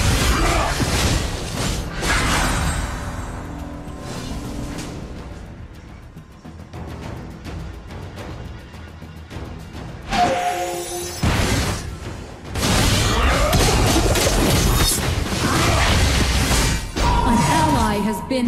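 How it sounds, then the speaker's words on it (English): Loud crashing, shattering destruction of a tower in the mobile battle arena game Arena of Valor, dense bursts of impact noise with a brief lull in the middle before another heavy surge. "Your team has destroyed a tower."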